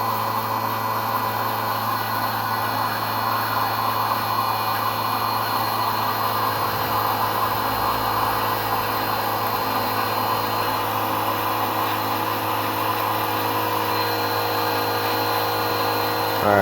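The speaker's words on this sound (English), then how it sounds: "You notice the pump sounds like it's loading down a little bit." An electric fuel pump on a 1999 Nissan Frontier Turbo hums steadily as fuel pressure is raised during a fuel system test, a continuous close whine with stable loudness and no break.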